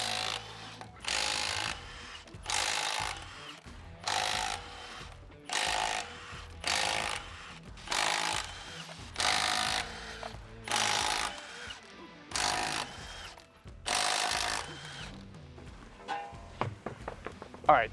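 A socket on a power tool removes the wheels from a 2016-2023 Toyota Tacoma. About ten short, loud, rattling bursts repeat at an even pace, each separated by a brief pause.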